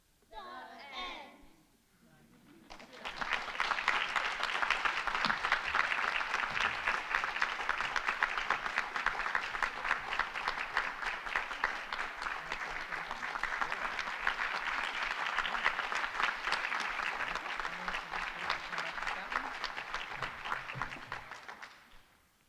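An audience claps after a school performance, starting with a short vocal bit, then steady, dense applause for about twenty seconds before tapering off.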